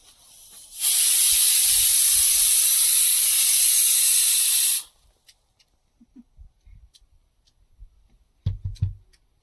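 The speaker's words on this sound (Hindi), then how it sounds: "यहाँ पे हमारा प्रेशर कुकर का सीटी बजते हुए" A pressure cooker whistle hisses out steam at a mountain campsite in Himachal's Barot Valley, one loud, steady jet lasting about four seconds before cutting off, followed by quiet outdoor sounds and faint thumps.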